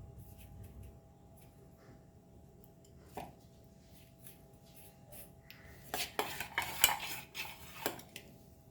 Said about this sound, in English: So we'll coat this with our rava along with our crushed ginger, garlic